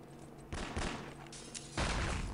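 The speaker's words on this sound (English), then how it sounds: "That opens up with a rifle grenade onto Letu." A rifle grenade fires in a competitive online shooter match, Finland against USA, as a few sharp, booming blasts in quick succession, the last and loudest near the end, amid ambient battle noise.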